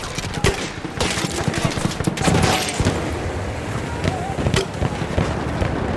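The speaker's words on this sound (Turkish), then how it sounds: "Düşman makinalı tüfek." Machine gun fire rattles in rapid bursts during a Battlefield 1 battle, mixed with other gunshots, explosions and loud combat noise, with a voice speaking briefly over it.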